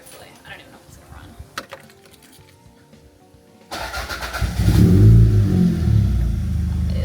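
A Toyota MR2 with an idling problem is cranked after a quiet stretch of faint clicks and keys, then the engine catches and revs loudly up and settles into a rough, steady idle nearby.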